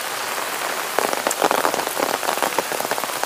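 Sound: heavy rain

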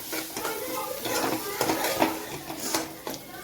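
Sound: stirring onion, potato and masoor dal with turmeric and coriander powder

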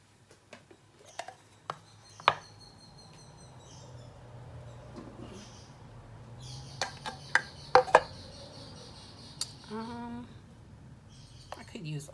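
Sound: chopping food with a kitchen knife

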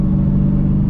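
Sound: Dodge Hellcat engine rumbling

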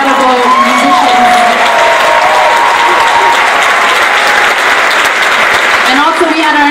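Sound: audience applause for graduation musicians

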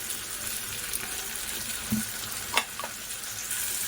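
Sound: tomatoes frying with vegetables in a pan

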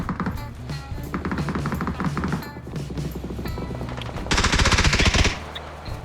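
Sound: gunfire in the video game PUBG

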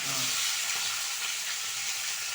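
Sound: frying onion and curry leaves for pakoda kurma

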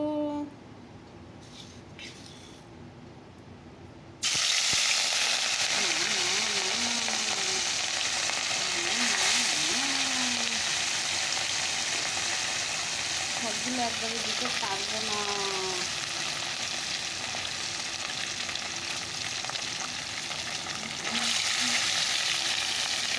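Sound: fish frying in hot oil in a wok

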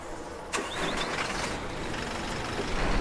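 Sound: bus engine starting in video game OMSI 2, Marcopolo Torino

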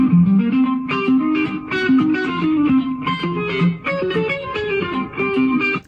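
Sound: isolated guitar track

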